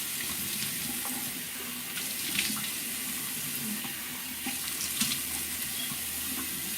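Cold water runs from a tap during a morning face wash, a steady, soft hiss with faint splashes throughout and no talking.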